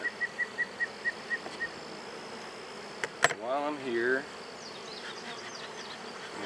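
Honeybees buzz around an open hive as a beekeeper scrapes burr comb from the frames, a steady hum with a close, wavering buzz passing near, opened by a short series of soft rhythmic ticks and a brief spoken phrase.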